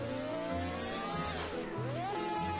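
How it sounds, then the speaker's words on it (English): Three-rotor RX-7 rotary engine car in the Roblox game Drive City, droning steadily with a buzzy, rising rev sweep near the end, loud and alone without talk. "It's got a rotary sound. It sounds just like a normal rotary car."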